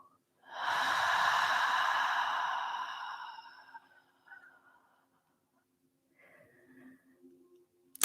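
One deep breath in and a long, drawn-out exhale during a slow-flow yoga session, close and soft, followed by a quieter breath and a faint sigh.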